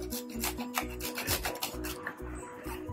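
Whole nutmeg is grated by hand over a pan of coconut rice, giving a steady series of rhythmic rasping strokes, close and fairly loud, with no talk.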